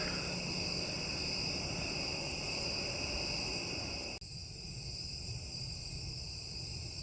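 Crickets chirp in a dense, steady chorus at a bayou campsite with no voices, the sound dropping slightly in level partway through.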